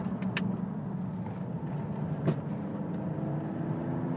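A Ford Edge 2.0 TDCi diesel in Sport mode accelerates to overtake, heard from inside the cabin as a steady, moderate engine and road drone with a few faint clicks.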